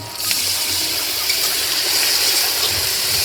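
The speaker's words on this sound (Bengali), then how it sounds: "এখন দিয়ে দিচ্ছি টমেটো কুচি সঙ্গে দিয়ে দিচ্ছি শিল ধোয়া জল" Water used to rinse a grinding stone gushes steadily into a cooking pot of chopped tomatoes, a loud, close, continuous pour lasting a few seconds.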